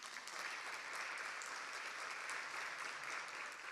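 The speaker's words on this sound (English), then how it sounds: "Great applause for him." Audience applause for a Special Rapporteur on human rights at a formal freedom-of-expression event: steady, dense clapping from a crowd that continues evenly from start to finish with no voices over it.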